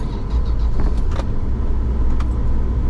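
Toyota Land Cruiser 80 Series engine running just after firing up, a steady low idle rumble close by with faint clicks and jingles on top.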